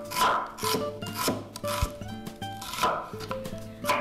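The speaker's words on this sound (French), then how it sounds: "Je coupe l'oignon en tranches" Knife slicing an onion into rings on a cutting board for a vegetarian butternut pasta bake, heard as a series of close, rhythmic cutting strokes, each a short rasping crunch against the board.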